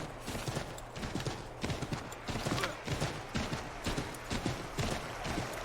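Steady clip-clop of horse hooves trotting in Assassin's Creed III Remastered, at a brisk, even rhythm, fairly close, with no talking over it.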